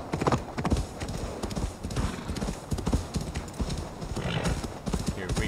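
Rapid hoofbeats of a galloping horse in Assassin's Creed Valhalla pound steadily throughout, with a faint whinny and busy background noise.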